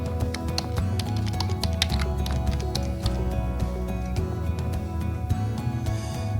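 Keys clatter steadily on a computer keyboard as county and zip code details are entered into an online application form, with dense, rapid clicking running throughout over a constant low background hum.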